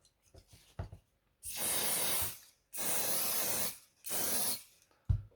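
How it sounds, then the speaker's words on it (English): Three short bursts of CA activator (kicker) sprayed onto a carbon chassis, close-up hissing separated by brief pauses, with faint handling clicks in between. "But before gluing, I use a kicker, CA activator."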